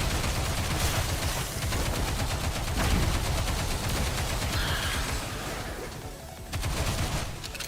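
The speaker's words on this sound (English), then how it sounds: "I think I need to shoot the grenade" Dense rapid gunfire from a shooter mechanic in the Stellar Blade game's Nikke collab, rattling continuously and loudly with bursts overlapping across the whole stretch, no voices.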